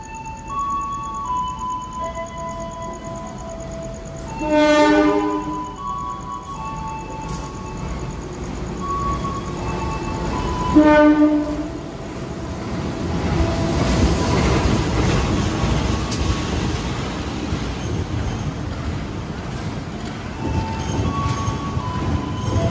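Mataram passenger train pulling into a station on the Kutoarjo–Yogyakarta line, with two loud multi-tone horn blasts near the start and again around the middle, followed by a growing rumble of wheels and carriages rolling past.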